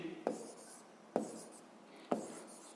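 Three distinct pen strokes scratch on paper at an even pace, close and quiet, as physics problem data is written down during a school lesson.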